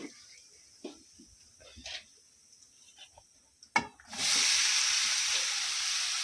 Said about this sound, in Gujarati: હિંગ નાખી દીધી આપણે હળદર નાખી